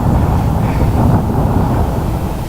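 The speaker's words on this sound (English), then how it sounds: "It's quite windy down here." Strong wind gusting beneath a viaduct near Cullingworth, Bradford, a loud, steady low roar buffeting the microphone for a couple of seconds with no voices.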